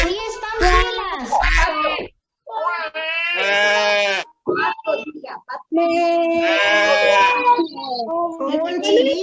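A voice imitates a goat bleating with wavering, drawn-out cries, close and loud, among children's and an adult's speech during an animal-sounds game.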